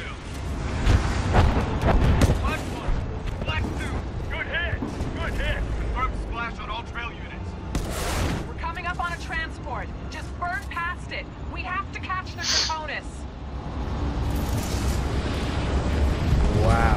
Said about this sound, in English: Fox 2. Missile up the rail.